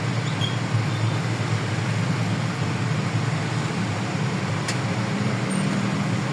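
Street traffic in the Philippines makes a steady, loud roar of passing vehicles. The broadband rumble continues without a break and no voices stand out.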